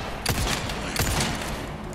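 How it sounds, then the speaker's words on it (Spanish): Gunfire in the video game Resident Evil 4 Remake, with two sharp shots about three-quarters of a second apart, each ringing out over a steady hum of game ambience. "Tres tiros y no te hago ni retroceder."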